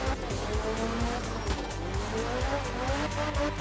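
A four-wheel-drive rally car in art of rally drifts around tight hairpins, its engine droning close and steady while tires squeal and skid continuously through the corners.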